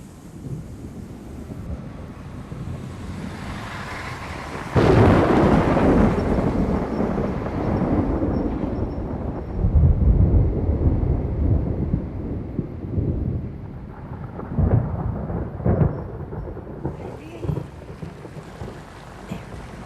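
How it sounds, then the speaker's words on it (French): An approaching storm in a horror film, with gusting wind and low rumbling thunder swelling and fading, a heavy surge partway through and further rolling rumbles toward the end, no voices. "La tempête se rapproche."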